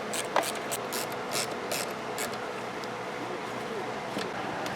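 Screwdriver working the last stubborn screw out of an older Craftsman chainsaw, a steady ratcheting, clicking mechanical rattle running close and continuous with faint rubbing underneath.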